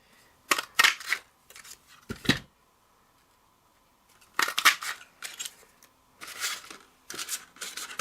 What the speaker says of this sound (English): Insert it into the punch and punch it out.